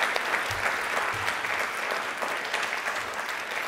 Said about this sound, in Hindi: तालियां प्लीज एक बार सर के लिए और सभी के लिए,